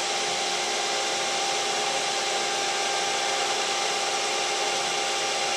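A machine tool countersinks the top of a drilled hole at low RPM, giving a steady, even grinding and rubbing drone that holds without a break. No one speaks.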